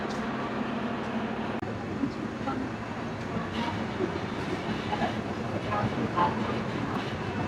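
The Rangpur Express pulls out of Joydebpur railway station in Gazipur: a steady rumbling roll of coaches with faint rhythmic wheel clacks and occasional squeaks, moderately loud and continuous.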